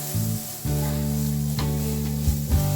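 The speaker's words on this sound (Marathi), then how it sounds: "आता यामध्ये लाल तिखट घालायचे आहे।" Bedgi red chili powder sizzling in hot oil for a Kolhapuri mutton tambda rassa: a steady, close frying hiss that holds through the whole stretch over a low droning tone, with a couple of brief stirring swells.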